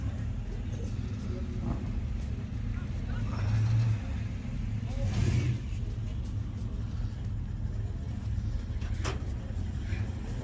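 A 1979 Mopar station wagon's 318 small-block V8 rumbles low and steady close by, swelling briefly twice as if revved, with people talking over it.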